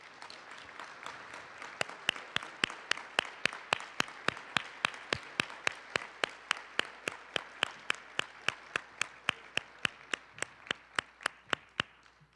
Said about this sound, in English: So I'd like for all of you donors to please stand so we can give you a round of applause.